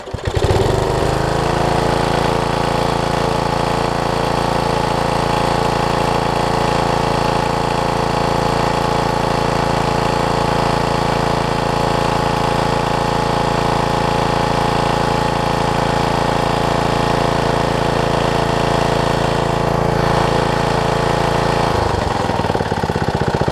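A Briggs 5hp engine on a Craftsman tiller runs after a first-pull start, idling loudly and steadily with a knocking, lawn-mower-like drone before cutting off near the end.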